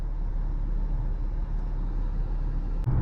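A 2021 Dodge Charger GT's engine hums as a steady, low rumble with road noise from inside the car while driving, continuous and moderate in level with no talking.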